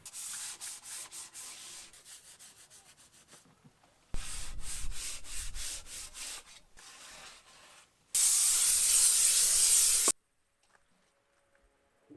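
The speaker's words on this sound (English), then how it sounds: "This is the sanding paper I'm gonna use, 400 grit." Rhythmic back-and-forth rubbing of 400-grit sandpaper, close and scratchy, in two bursts, followed by a loud continuous spray hiss that cuts off abruptly.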